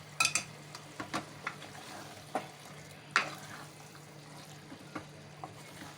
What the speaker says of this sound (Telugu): మొత్తం ముక్కలన్నీ వేసిన తర్వాత ముక్కలకు మసాలాను ఆయిల్ కొట్టే విధంగా మొత్తం కలుపుకోవాలి